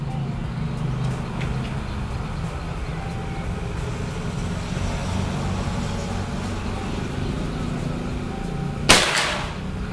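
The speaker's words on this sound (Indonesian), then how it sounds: "Sekarang kita lanjut ke tembakan yang keempat." A single sharp crack from a PCP air rifle, a Jawa Es big game unit, fired at target range near the end, standing out against a steady low outdoor background hum.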